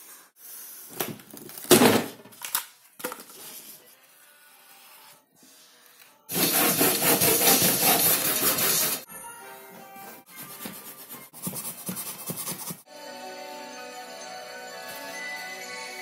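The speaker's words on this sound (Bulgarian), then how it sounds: "започвам вече да режа картон" Cardboard is cut by hand in short rough bursts of scraping and tearing, then in a long, loud, continuous sawing rasp, followed by quieter uneven cutting.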